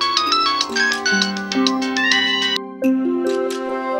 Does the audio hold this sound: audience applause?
no